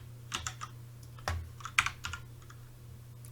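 Keyboard keys clacking in a short, irregular burst of presses, close and fairly quiet over a low steady hum.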